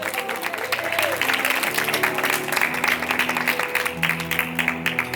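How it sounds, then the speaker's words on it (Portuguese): Church congregation applauds in a sustained, dense clatter of clapping that fills the room, with faint voices mixed in. "Aplauda Jesus."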